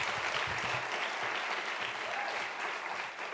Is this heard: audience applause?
yes